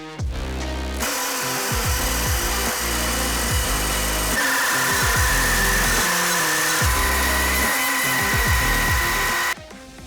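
Cutout tool slicing speaker adapter openings in a Jeep JL/JT overhead panel for 6.5-inch speakers, a loud continuous high whine with grinding load changes for about eight seconds, then stopping abruptly.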